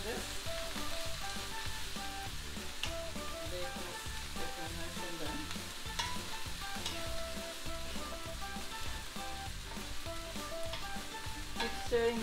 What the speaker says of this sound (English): stirring the vegetable for 3 to 4 minutes